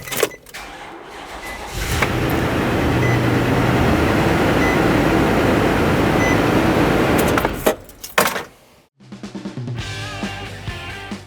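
Nissan NV2500 with the 5.6L V8 running steadily right after starting, a loud broadband engine drone for about six seconds, then quieter intermittent mechanical sounds.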